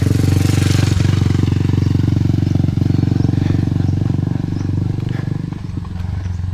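A motorized tricycle engine runs loud and close on a rural road, a steady low rumbling drone that fades slightly as it moves along, with no talking over it.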